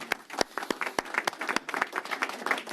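Audience applause at a city press conference with the mayor, dense clapping with sharp individual claps standing out, fairly close and steady for a few seconds, no talking over it.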